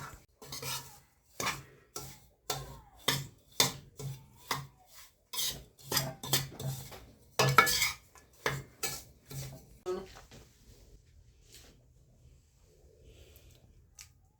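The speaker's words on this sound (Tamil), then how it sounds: "போட்டு கிண்டி விட்டுக்குவோம் எல்லாத்தையும்" Spoon scraping and stirring rava laddu mixture in a metal pan, a steady run of sharp rasping strokes close by that slows and fades to quiet near the end.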